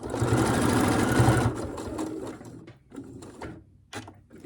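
A sewing machine stitches a seam on an upcycled fabric pencil case, a fast close mechanical whir for over a second, then slower scattered stitches and clicks.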